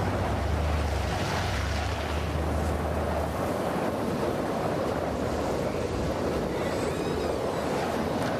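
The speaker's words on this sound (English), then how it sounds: "The wind is picking up." Strong wind picking up outdoors, a loud, steady broadband roar with surf-like rushing and a low rumble over the first few seconds.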